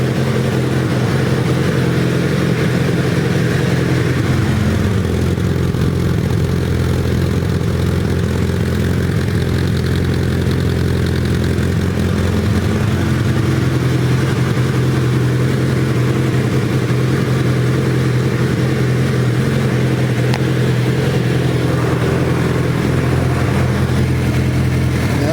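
A Suzuki Hayabusa GSX1300R sport motorcycle, running again after a wreck, idles steadily up close with a deep, even engine hum and a slight shift in pitch partway through, continuous for the whole stretch with no talking.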